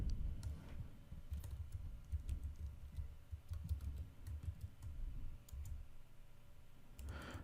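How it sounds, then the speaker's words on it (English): A password is typed on a computer keyboard, giving quiet, close clicks in irregular bursts over a low hum, with no talking. "we're going to enter the password"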